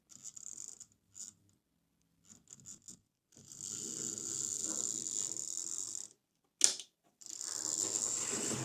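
A faulty Hornby R066 Princess Coronation Class Duchess of Sutherland model locomotive motor whirs and rattles in stop-start bursts, with short buzzing spurts, then a longer steady run, a sharp click, and another run.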